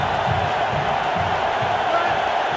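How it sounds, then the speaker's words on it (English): Stadium crowd in NCAA Football 2004 roars continuously at a home opener, a steady dense wash of cheering with swelling pulses of low rumble throughout. "We brought in quite the crowd."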